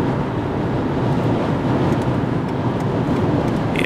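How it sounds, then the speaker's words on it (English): Steady, loud wind roaring and buffeting a microphone outdoors, a constant low rumble with no voices. "It's really windy today."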